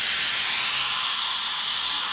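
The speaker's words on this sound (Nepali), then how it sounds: "अब यो सिटीलाई चाहिँ अलिकति माथि उठाइदिउँ।" A steady, loud hiss of steam escapes as the whistle of a pressure cooker holding goat head meat is lifted, continuous and close throughout.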